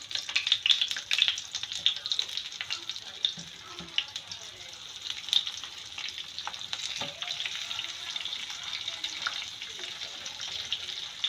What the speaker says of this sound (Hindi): चलिए जी शुरू करते हैं कबाब फ्राई करना।